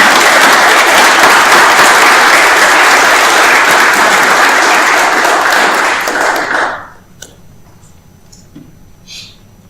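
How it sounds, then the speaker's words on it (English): A conference audience gives a speaker loud, sustained applause, a thick roar of many hands for about seven seconds that stops abruptly, followed by near silence with a couple of faint bumps. "Let's have a round of applause for Leia."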